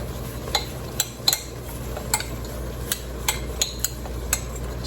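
A spoon stirs an apple cheese casserole mixture with butter crackers in a bowl, giving a series of light, irregular clinks and scrapes over a low steady hum, close and fairly quiet.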